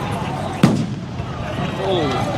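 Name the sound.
firework exploding outdoors during a crowd protest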